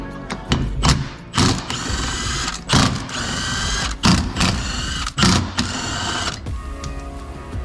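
Hand ratchet working loose the rear bumper bolts on a Jeep Wrangler JK, a close, loud metallic clicking in repeated bursts of rapid ratcheting separated by short pauses, with no talking.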